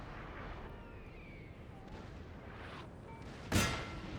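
A single distant cannon blast from artillery fire in the video game Napoleon Total War, a sudden boom near the end over a low, steady battlefield rumble.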